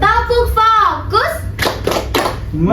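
Classroom of children doing a rhythmic clapping chant, bursts of sharp hand claps in a set pattern mixed with a teacher's and kids' chanted voices, close and loud.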